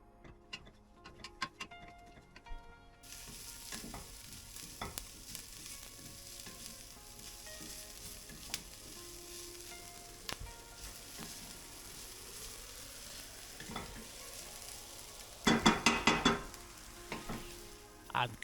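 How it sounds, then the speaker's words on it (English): Onions sauté in olive oil in a pan, a quiet continuous sizzle with occasional clicks and light stirring, ending in a louder burst of scraping and clattering. "Saute the onions in cold olive oil until translucent."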